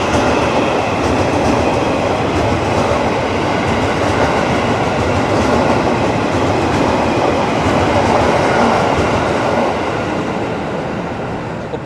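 A Batavia train passes behind a station platform, a steady loud rumble of rolling wagons with rail clatter sustained for the whole span, without talk.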